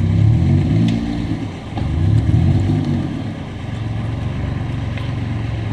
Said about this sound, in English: that Maxima sound like it has a four-cylinder in it?